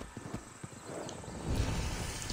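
Horse galloping in Assassin's Creed Odyssey, rhythmic hoofbeats thudding close, building into a louder rumbling run toward the end, with no voices.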